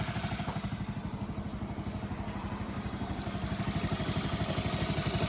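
A Hero Splendor Plus motorcycle engine idles nearby with a fast, even pulsing throb and light mechanical clatter, running steadily and slowly rising a little in loudness, with no voices.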